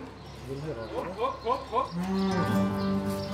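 Several cows moo on a farm in a series of close, drawn-out calls, the first few shorter and overlapping, then a long sustained low moo to the end, with no talk.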